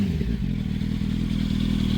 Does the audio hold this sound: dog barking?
no